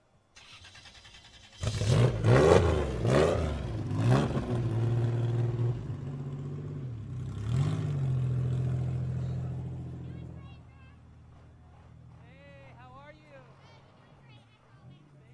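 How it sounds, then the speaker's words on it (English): Diesel-powered Class 7 race truck engine revving loudly at a Baja 1000 off-road racing event, several sharp throttle blips, then a sustained roar that fades, with people talking over it. "Another Class 7 truck, but it's a diesel-powered machine."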